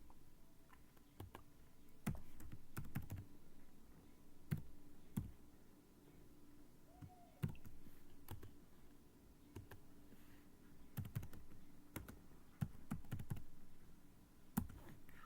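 Someone types a C program on a computer keyboard: sparse, uneven key clicks and sharper taps come in short bursts with pauses, close and fairly quiet over a low steady room hum, with no talking.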